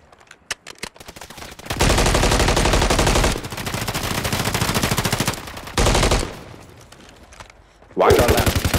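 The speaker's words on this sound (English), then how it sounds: "Just shoot at that motherfucker. No running this time. Just shoot at it." Call of Duty gameplay with sustained automatic gunfire in long dense bursts, loud and close, broken by short pauses.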